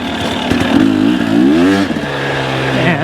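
A KTM dirt bike engine revs up and down on the throttle, loud and close, its pitch climbing and falling in smooth waves with a steady mechanical clatter underneath.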